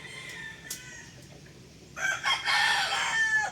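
Chickens in a small backyard coop, with faint clucks at first, then a loud, close rooster crow rising for the last second and a half.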